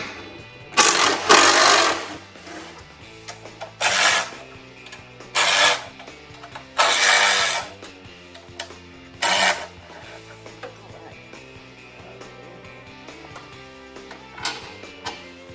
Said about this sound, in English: now we're going to take out these 5 bolts here.